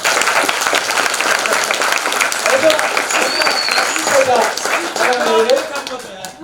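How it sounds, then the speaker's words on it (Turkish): An audience at a talk by an earth scientist applauds loudly and continuously, with voices and chatter mixed into the clapping throughout. "Daha kuvvetli alkış etmiyorlar mı?"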